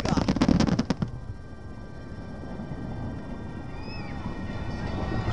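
Fireworks burst in a fast, crackling volley of loud pops for about a second, then fade into a distant hissing crackle with faint whistles and soft voices in the background.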